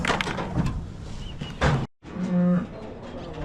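A cow moos once nearby, a short low call near the end, after some clattering and a brief pause, on a cattle farm during pregnancy checks.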